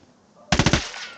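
A short machine-gun burst from the video game Ghost Recon Wildlands: four or five rapid, loud shots in quick succession after a moment of quiet, ringing out briefly afterward.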